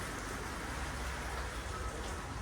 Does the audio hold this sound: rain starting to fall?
yes